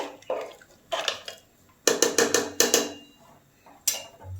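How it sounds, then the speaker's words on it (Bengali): Water poured into a pot of duck curry with bean seeds, heard as several short splashing and clinking bursts against the metal pot, fairly close, with pauses between pours. "আপনারা যে যেরকম ঝোল খাবেন সেই অনুযায়ী জল দিয়ে দেবেন"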